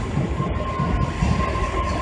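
Tokaido Line E233 and E231 series commuter train departing Tokyo Station, heard from the platform: a steady, loud rumble of railcars rolling past with a constant mechanical drone and faint wheel clatter throughout.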